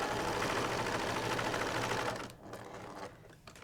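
Sewing machine stitching a fabric band for an upholstered box cushion cover, a fast even mechanical whir for about two seconds that stops, followed by quieter handling noises.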